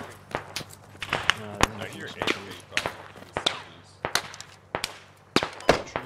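Gunfire in the video game Squad: a string of sharp, distinct shots cracking at irregular intervals, some nearer and louder than others, with a voice talking between them.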